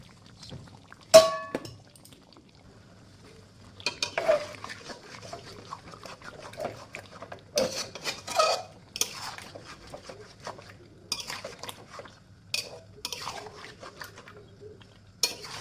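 A marinated spice mix is tipped onto chicken in a pan and stirred: one sharp knock, then intermittent scraping, clatter and soft wet stirring bursts, fairly close and moderately loud.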